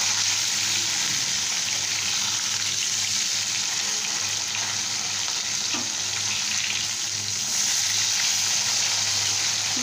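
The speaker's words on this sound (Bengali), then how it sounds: "এখন আমি এই সাইডটাও ভেজে নিব" Katla fish pieces fry in oil in a pan, a dense, even sizzle and crackle holding steady and close throughout, with faint scraping and no talking.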